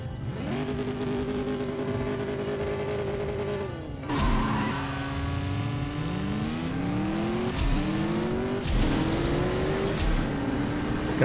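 A Camaro in the CSR2 drag racing game accelerating hard through rising gear shifts, the engine whine climbing and dropping at each change, ending in a fifth-gear nitrous boost surge, loud and alone.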